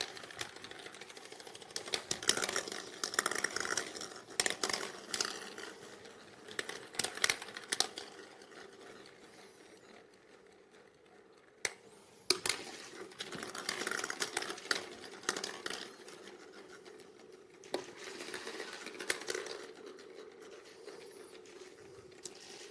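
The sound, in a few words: draw balls being shuffled in a glass bowl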